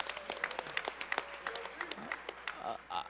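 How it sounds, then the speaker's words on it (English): A small audience at an elected officials panel summit claps in a short round of applause, scattered individual claps rather than a dense roar, with murmuring voices underneath. "Give him a round of applause."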